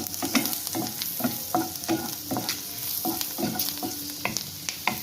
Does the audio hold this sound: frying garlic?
yes